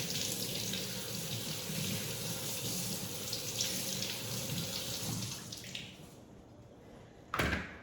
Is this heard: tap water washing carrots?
yes